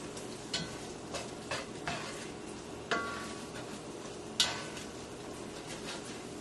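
Eggs being scrambled with a spatula in a frying pan for breakfast egg rolls, a steady soft sizzle under repeated scraping and tapping strokes of the spatula against the pan, with a couple of sharper clicks, no talking.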